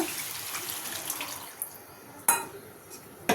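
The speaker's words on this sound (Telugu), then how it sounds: "క్యాప్సికమ్ సాఫ్ట్ అవడానికి ఒక గ్లాస్ నీళ్ళు వేస్తున్నా" Water pours steadily into a pan of capsicum and cauliflower curry for a moment, then a few sharp metallic clinks of cookware follow.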